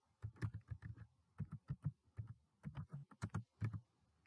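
Rapid keystrokes on a computer keyboard typing a game title into a search bar, a close, uneven run of crisp clicks and taps in short bursts with brief pauses, no voices.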